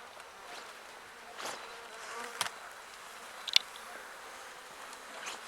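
Soft bee buzzing drifts in and out at low level, with a few brief sharper buzzes as a bee moves close; no voices.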